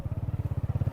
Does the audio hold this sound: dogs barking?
no